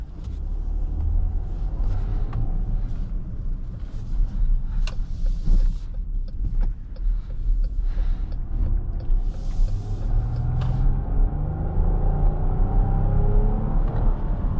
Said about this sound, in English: The engine sounds pretty good too.